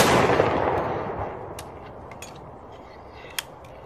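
A musket volley fired by ranks of soldiers on command: one loud, broad blast that rolls off into a long decaying echo, followed by a few scattered faint cracks and a small sharp report near the end.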